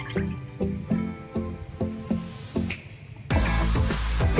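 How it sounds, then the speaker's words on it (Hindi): A cup of milk is poured into a pan, starting as a series of rhythmic liquid glugs and splashes, then swelling into a steadier, louder pouring rush near the end. "सबसे पहले एक पैन में हम दूध डाल लेंगे"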